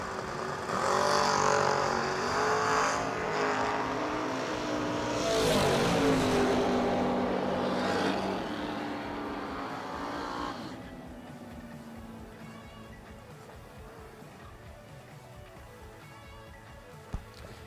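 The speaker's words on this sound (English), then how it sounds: "My dragsters, lanes 3 and 4, please." Dragsters at a drag strip launch with a loud, rising engine roar that peaks and then fades into the distance over several seconds, leaving a low, faint background rumble.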